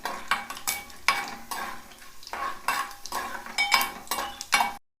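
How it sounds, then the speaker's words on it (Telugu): Tempering seeds crackle and sizzle in hot oil for a millet kichidi, in repeated bursts of frying punctuated by a spoon scraping and clinking against the pan, close and unaccompanied by speech. "తాలింపు గింజలు మంచిగా వేగాలి"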